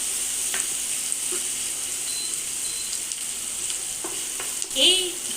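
Onions fry steadily in a pan, browning for a chicken and masoor dal meal; a continuous, close broadband sizzle runs throughout, broken by a few soft stirring scrapes and a brief louder clatter near the end, with no talking.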